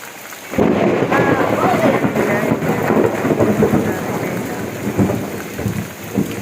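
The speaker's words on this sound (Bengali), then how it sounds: "বজ্রপাত হচ্ছে বড় বড়।" Heavy monsoon rain pours steadily on a tin roof at a home, with big thunder rumbling through the downpour, loud and continuous after a quiet start.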